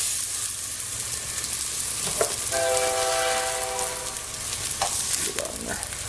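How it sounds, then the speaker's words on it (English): A passing train rumbles steadily beside a cooking setup, with a brief horn-like tonal blast mid-way over constant sizzling from a frying pan. "Don't mind the train. We get about 60 of those a day"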